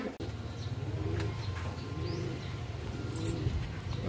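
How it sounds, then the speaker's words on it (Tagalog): Racing pigeons coo in a loft, soft low rolling calls repeating steadily at close range against a faint background hiss. "Yan siya mga kalapatids."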